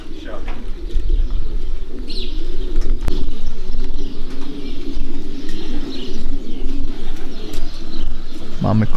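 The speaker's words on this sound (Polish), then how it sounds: "Mamy kolejnego gołębia." Racing pigeons coo steadily at a loft during returns from a 340 km race from Torgau, with a near continuous murmur of cooing, occasional chirps and wingbeats, and people talking over it.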